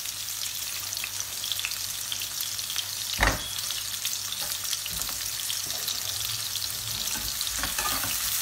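Chopped onion, ginger and garlic frying in a pan for a village-style paneer curry gravy, a steady close sizzle with scattered crackles and one brief knock or stir, no talking.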